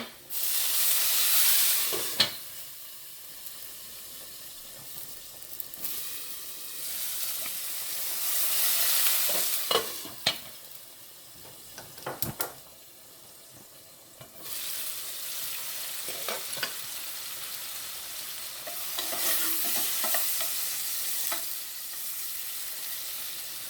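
Sausage and broccoli rabe sauté in a pan with a continuous hissing sizzle that swells and fades as the food is stirred, punctuated by sharp scrapes and clanks of the utensil, with no voices.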